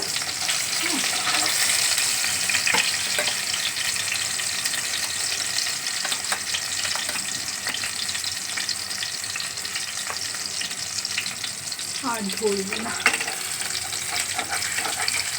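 Egg cake pieces sizzle steadily in a frying pan, a close, constant crackle with occasional utensil scrapes and taps; someone says a few words briefly.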